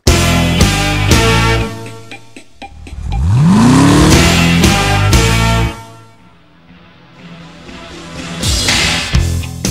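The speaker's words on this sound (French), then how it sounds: "Les premiers rugissements du V8 calmeront plus d'un pilote non expérimenté." Chevrolet Camaro convertible V8 roaring loud and close, revving up with a rising engine note, easing off, then surging again.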